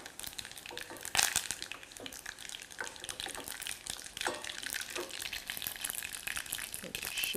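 Garam masala and turmeric hit hot oil with a steady crackling sizzle and splattery bursts, punctuated by sharper spits and stirring scrapes, close and continuous throughout with no voices.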